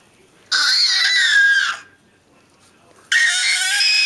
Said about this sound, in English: Hey, hey, don't scream.